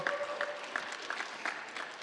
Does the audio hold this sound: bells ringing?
no